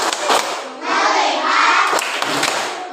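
A school class performs a rhythmic focus clapping routine, with bursts of hand claps and thumps mixed with loud group chanting from children, close and lively throughout.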